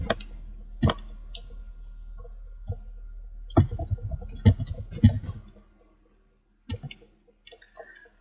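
Sharp, isolated computer mouse clicks at a desk, a few spaced taps with short silences between them, close and fairly clear.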